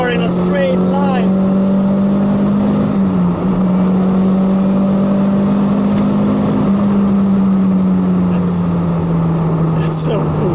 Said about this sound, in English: It's a blast to shift gears with this 6-speed straight cut Quaife set